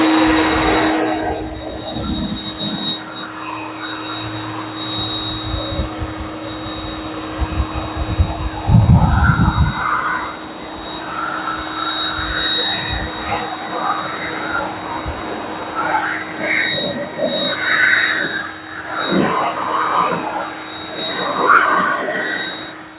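An air blower dries off a freshly washed car, a loud, close, roaring whoosh that rises and falls in bursts, with a steady whine underneath and a voice talking at times.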